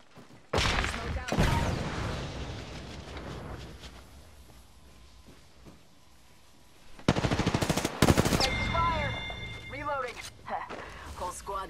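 Automatic gunfire in the battle royale game Apex Legends on the World's Edge map, with dense close bursts early, then sharp rattling volleys and a whining ability effect later, with game voice callouts in between.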